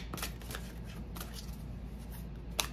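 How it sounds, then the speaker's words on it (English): Oracle cards are shuffled by hand in quick, soft riffling bursts, quiet and close, with a small tap near the end. "What does the Starseed Work Your Light Oracle have to say"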